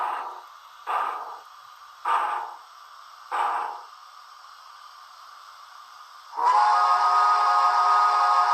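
A PRR E6 Atlantic 4-4-2 model locomotive sounds its steam whistle: four short, evenly spaced toots followed by one long sustained blast, clear and close.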